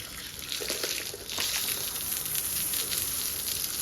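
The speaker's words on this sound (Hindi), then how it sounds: "ऊपर ताज़ा पानी आ रहा, गर्म पानी नहीं है, ताज़ा पानी है।" Fresh, unheated water runs steadily while a brush scrubs during the washing of a buffalo, a continuous broadband gush close by with no talk.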